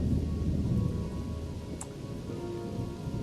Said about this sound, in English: Is that a sound of a thunder?